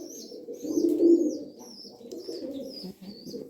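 A straight-feathered female bazi pigeon coos softly and repeatedly, a low rolling call heard up close with faint chirps above it.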